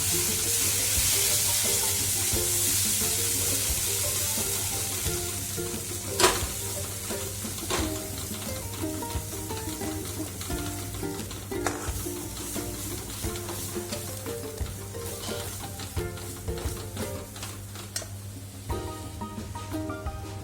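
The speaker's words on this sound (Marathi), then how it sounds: "चांगलं व्यवस्थित परतून घेऊ." Drumstick pod vegetable masala with turmeric sautéing in a pan, a continuous close sizzle and frying hiss with occasional scrapes and taps of a spoon stirring against the pan.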